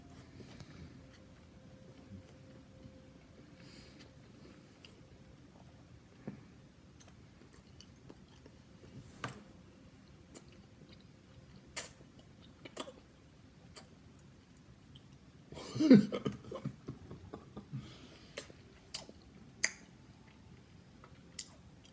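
Chewing street tacos filled with carne asada, soft close-up moist bites and smacks scattered over about twenty seconds, faint and intermittent with one louder burst midway, no talking.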